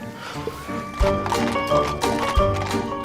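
Horses with big feathered plumes pull a wedding arrival past waiting crowds, hooves clip-clopping in steady repeated strikes under a loud, busy background of music and crowd noise.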